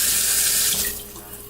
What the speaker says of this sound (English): And we just want to rinse this out with some hot water.